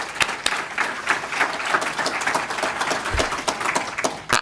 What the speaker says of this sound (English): So a big round of applause for all of them who are watching from around the world.